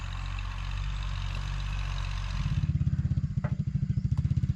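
A farm tractor engine runs nearby in a cassava field, shifting from a steady hum into a loud, rhythmic low chugging as it revs up.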